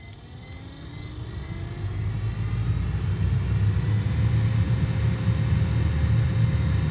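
A new replacement vent blower motor in a Suzuki Vitara runs with a steady whirring hum and low rumble that builds slightly and holds at an even level, close and continuous.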